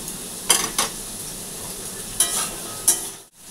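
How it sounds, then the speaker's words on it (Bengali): Sweet pumpkin pieces frying in a wok, a low steady sizzle with a few sharp scraping stirs near the start and later, fairly quiet and without voices. "মিষ্টি কুমড়ো কাটা হয়ে গেছে, তাহলে ওটা ভাজা করে নিই"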